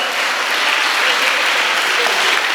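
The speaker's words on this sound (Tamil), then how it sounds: "நல்லா ஒரு பலத்த கைத்தட்டு" Audience at a startup CEO roundtable at the Nehru Institute of Technology gives strong applause, a dense, even roar of clapping that stays loud from start to finish.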